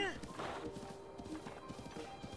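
A horse in Zelda: Breath of the Wild gallops gently, its hoofbeats repeating in a soft, even rhythm under a steady game soundscape, with a brief bright sweep at the start.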